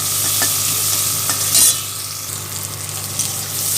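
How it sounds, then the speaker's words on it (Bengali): Chopped onion and green chili stirred in a pan for a fish recipe, giving a steady close sizzle with soft scraping strokes and a brief louder clatter midway, no voices. "এই কাঁচা লঙ্কা পেঁয়াজ কাটা আছে, এটা দিয়ে দেবো, একটুখানি নাড়বো"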